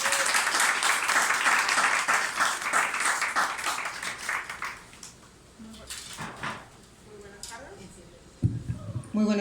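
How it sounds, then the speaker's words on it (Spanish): An audience applauding at a poetry commemoration event, with a burst of dense clapping that fades out after a few seconds into quieter room noise, followed by a few scattered sounds. "Un aplauso para ella, por favor."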